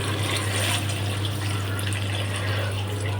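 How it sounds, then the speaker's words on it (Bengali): Water pours steadily into a cooking pot for beef curry gravy, a continuous splashing stream with a low steady hum underneath, no voices. "এবার ঝোলের জন্য পানি দিয়ে দিচ্ছি"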